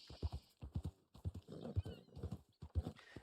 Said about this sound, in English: I gotta feed this horse